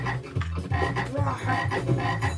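Frogs croak in a Mr. Bean frog-collecting video game: a quick, repeating series of deep, throaty croaks that sound close and rhythmic, with no talk over them.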